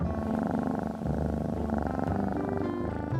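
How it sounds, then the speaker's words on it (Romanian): Close, steady purring from a content cat, a continuous low rumbling vibration with a gentle in-and-out rhythm from its breathing, heard alone with no voices. "Toarce atunci când își dorește mai multă atenție și este fericită"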